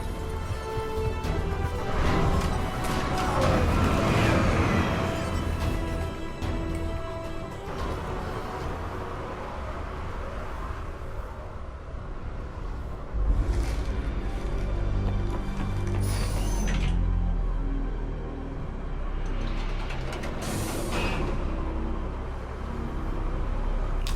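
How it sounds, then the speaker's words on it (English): An elevator climbs a shaft in the video game Mass Effect 3, with steady mechanical rumbling, whirring, and clanking ratchet-like sounds, plus a few sharper swooshes later on, with no talking. "Okay, I'm in the shaft. Hang on. This'll be a fast climb."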